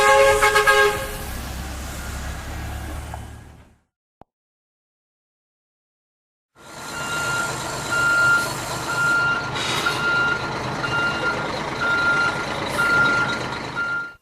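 A big truck sounds loud, evenly spaced reversing beeps over its rumbling engine, with short horn toots. The sound cuts to silence for a few seconds midway, then the beeping and engine noise return at full strength.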